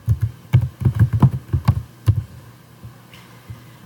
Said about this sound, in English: They can type in a email address